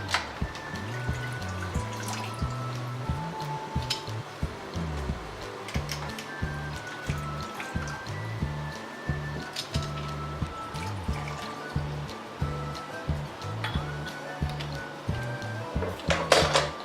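Hot water is poured out of glass canning jars in a home kitchen while making strawberry preserves. Soft trickling and splashing come in repeated short pours, with light clinks of glass, close and fairly quiet.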